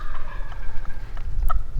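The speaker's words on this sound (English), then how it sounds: "There's a bird gobbling right here, not far from the parking lot." A wild turkey gobbles close by, near a parking lot on a spring hunting morning, a loud rattling gobble rising over quiet outdoor background noise.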